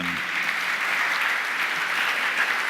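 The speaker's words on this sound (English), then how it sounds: "I think we need a round of applause for these guys." Dense audience applause at a policy summit session on infrastructure, a brief continuous burst of clapping heard on its own.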